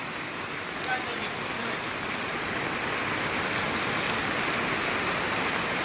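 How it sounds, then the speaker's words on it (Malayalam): Heavy floodwater pours off a highway into a house yard in Velimukku, Palakkal, a steady loud broadband roar like a waterfall that holds constant throughout, with no pauses. "ഇത്രയും വെള്ളം ഹൈവേ നിന്ന് ഒഴുകി വരികയാണ്. വെള്ളച്ചാട്ടം പോലത്തെ അവസ്ഥയാണ്."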